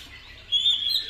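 A single bird gives a thin, high chirping call, close and clear, lasting about half a second with no talking.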